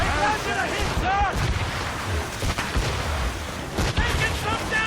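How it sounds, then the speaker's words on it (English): Naval cannon fire from a sailing ship in Assassin's Creed Rogue, heard as repeated booms and crashes mixed with wind, waves and shouted crew voices throughout. "They're firing, sir! They landed a hit, sir!"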